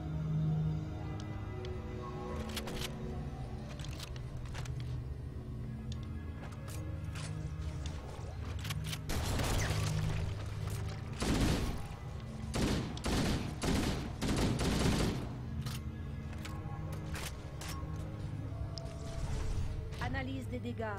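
Shotgun blasts and bursts of gunfire from the Halo video game crack out in scattered clusters over a steady game backdrop, some shots sharp and loud, others overlapping in rapid volleys.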